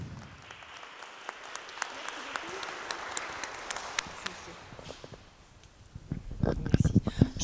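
An audience applauds Alexandra Techinova at a gathering, a steady wash of clapping that swells and carries on for several seconds before sharper, closer claps near the end.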